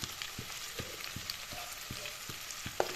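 Ginger, garlic and onion frying in a pan for chicken curry, giving a soft, even sizzle with regular utensil taps at a steady rhythm.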